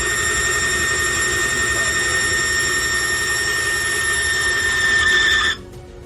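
A friction test machine pressing non-lubricated metal surfaces together in a control test, producing a loud, sustained high-pitched squeal over a mechanical whir that stops abruptly near the end.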